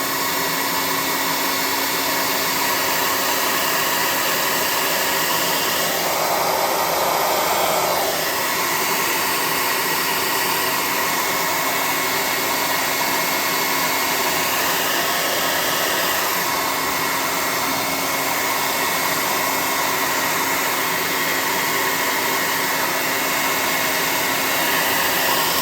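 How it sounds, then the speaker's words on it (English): An air gun blows steadily on a freshly painted tabletop bunker entrance model, a loud continuous close whoosh that holds for the whole stretch with a slight shift in tone partway through, no talk. "We'll hit this with the air gun."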